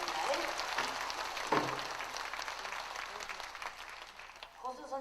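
An audience at a dance recital claps in a scattered, continuous patter, moderately distant, with voices talking over it.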